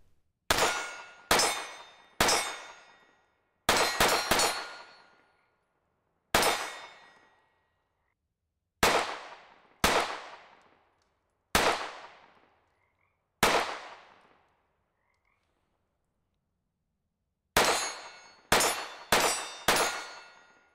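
Hellcat pistol rounds fired down range outdoors, about fifteen sharp loud reports in irregular bursts, with a ringing decay after each and quiet pauses between, including a longer gap before a final quick string.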